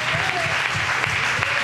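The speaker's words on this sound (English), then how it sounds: "Let's clap our hands to Jesus." A church congregation claps along during worship at a conference, rhythmic hand claps repeating steadily under singing or a voice, loud and continuous throughout.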